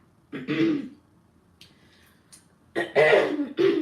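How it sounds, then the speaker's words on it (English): A person clears their throat harshly several times in two separate bouts, close and loud, with a short quiet gap between them. "Sorry, I had to clear my throat like that"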